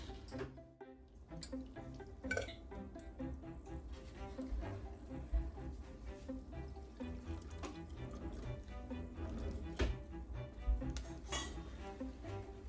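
Rendered beef tallow being strained in a pot, with soft clinks and scrapes of metal utensils against cookware and faint liquid pouring and dripping, quiet and intermittent.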